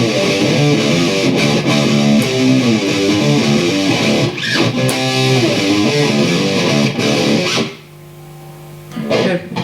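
Heavily distorted metal guitar through an Amptweaker Tight Metal pedal with the tightness control backed off, playing dense, loud sustained riffs with a thick low end, then a brief break before chugging resumes.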